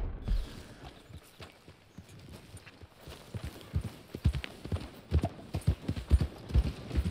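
Horse hooves clip-clop in Red Dead Redemption II, an uneven run of close, punchy hoof strikes that start sparse and grow quicker and louder, with faint creaking of tack between the steps.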